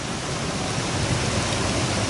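Heavy rain falls during a storm, a dense, even wash of hiss that stays loud and unbroken throughout with no voices.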